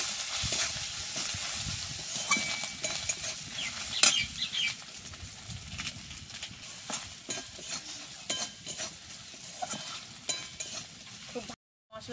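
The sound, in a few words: masala spices being stir-fried in a pan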